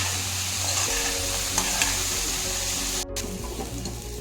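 Bitter gourd pieces fry in a pan for a jaggery chutney, a steady soft sizzle with occasional stirring scrapes and a brief clatter near the end.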